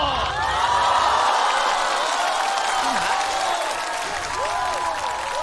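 A crowd at a stand-up comedy show cheers and whoops, a sustained wash of voices and applause holding steady throughout, with scattered shouts rising above it.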